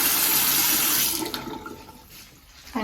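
Water gushing from a basin tap in a hostel bathroom, a steady loud splashing stream that cuts off after about a second, leaving faint drips and a quiet room.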